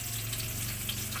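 Galunggong fish frying in oil in a pan beside sautéing kangkong, a steady close, dense sizzle and crackle running throughout with no pauses.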